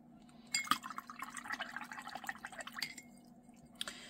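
Water is added to watercolor paint while mixing, giving soft drips, small splashes and light brush and glass taps, quiet and close with no talking.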